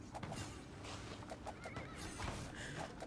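A horse whinnies in a video game, a loud, noisy neigh over hoof clip-clop and dense game sound effects.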